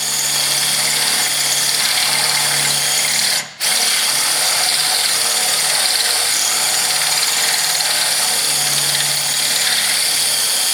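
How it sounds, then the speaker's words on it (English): A power drill bores holes into the steel frame of a Chevrolet Silverado 2500HD during a lift install, whining loud and continuous right up close, with one brief stop partway through. "So I'm going to get to drilling here."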